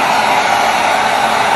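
A hot-air heat tool used to dry paint on a thrifted piece runs steadily, a loud, even whirring hiss held at constant level throughout, with no voices.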